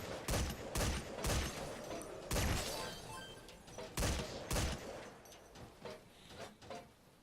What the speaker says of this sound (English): I'm going to be using the gun. This MG that's positioned here.